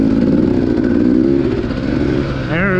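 A dirt bike engine on a sandy trail ride runs loud and close, with a steady throaty drone that rises into a short rev at the end.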